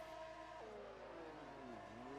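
F1 race cars in a video game rev at the start of a race in Texas, a sustained engine drone whose pitch drops and sweeps in overlapping tones, steady and moderately loud.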